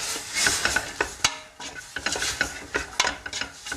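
Onions frying with turmeric in a pot for Moroccan harira soup, close sizzling with irregular scraping and stirring clatter from a utensil against the pot.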